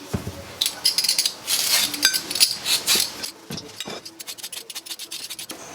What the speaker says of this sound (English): Just going to start peeling.